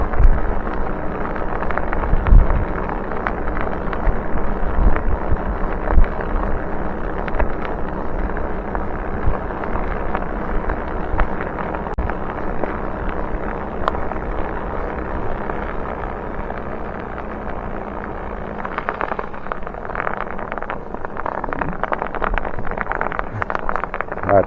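Continuous close rattling hum of studded bicycle tires riding along a paved road, fairly steady and loud throughout, blended with buffeting wind noise across the microphone.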